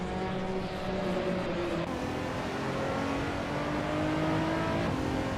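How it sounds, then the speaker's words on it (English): A 2008 KTM Crossbow GT4 race car engine drones at high revs in a racing video game, with a steady loud tone that shifts pitch as it changes gear. "Deluxe Combo is driving a 2008 KTM Crossbow GT4"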